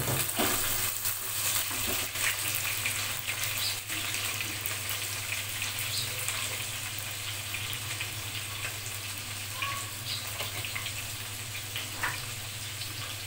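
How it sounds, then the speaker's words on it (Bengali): Cubed potatoes fry in oil left from browning onions and garlic, giving a steady, dense sizzle with a low hum beneath it, continuous and moderately loud throughout with no talking. "এখন আমি পেঁয়াজ ভাজা তেলের উপরে দিয়ে দিব কিউব করে কেটে রাখা আলু।"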